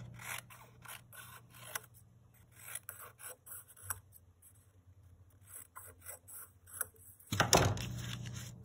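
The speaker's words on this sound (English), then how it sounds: "Cut them into skinny strips." Scissors snip through purple material in a rapid run of short, crisp cuts, close and fairly quiet, each blade closure a dry rasp, ending in a louder clattering burst.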